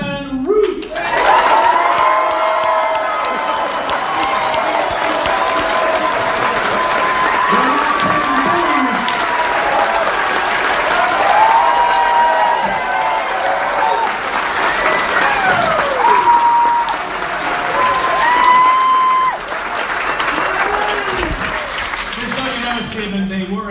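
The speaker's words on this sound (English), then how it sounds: "They were in fact booing" A large audience at a live event, loud sustained crowd noise mixing applause, cheering and drawn-out booing that swells and dips throughout, with voices shouting within the din.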